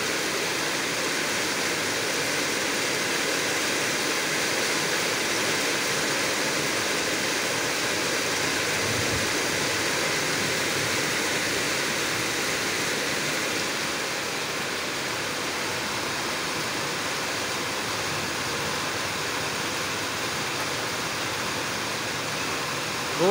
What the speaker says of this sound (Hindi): बहुत तेज़ बारिश हो रही है, बहुत तेज़ बारिश